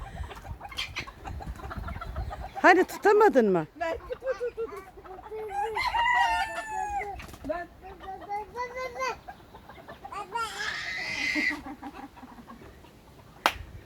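Rooster and hens at close range, clucking and crowing in short bursts amid shifting farmyard noise, with people talking over and between the calls.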